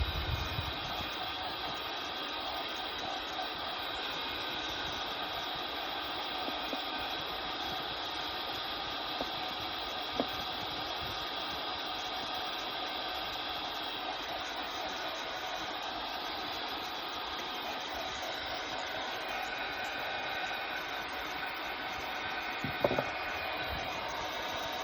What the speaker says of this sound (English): We'll just keep the heat tool going if we paint.